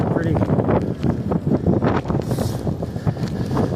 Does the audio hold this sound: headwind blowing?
yes